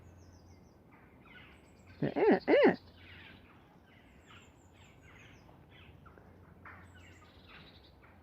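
Crows caw over open British countryside: a quick run of three harsh calls, fairly clear against a quiet outdoor background, with a person briefly speaking.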